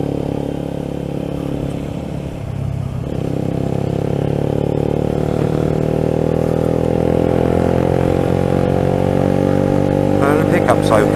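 A 125cc motorcycle engine droning steadily while riding, loud and continuous with a slight dip and rise in pitch, mixed with wind and road noise.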